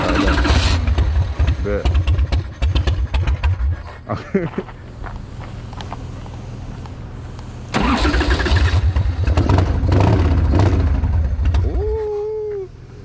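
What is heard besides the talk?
chopper motorcycle engine starting and revving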